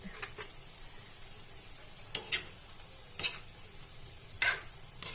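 Chicken adobo with string beans being stirred in a pan, quiet background hiss broken by several sharp scraping and clinking strokes of a utensil at irregular intervals.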